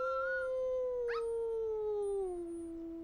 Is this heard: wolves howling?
yes